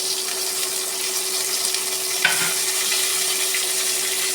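Ginger, green chilli, garlic and onion sautéing in a pan for a fish curry, an even hissing sizzle with a single soft stir midway, close and steady with no speech.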